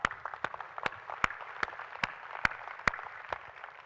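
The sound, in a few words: audience applause at keynote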